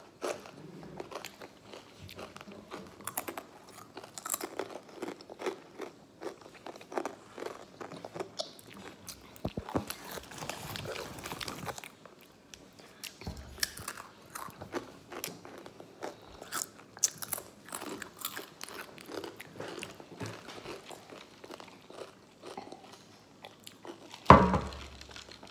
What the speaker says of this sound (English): But for these chips, it's too crunchy, so that's why it's loud.